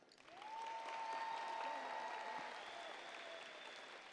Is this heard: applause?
yes